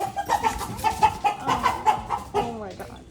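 A chicken clucks in a rapid, repeated series at a neighbouring house, fairly close and loud, with a brief squawk near the end.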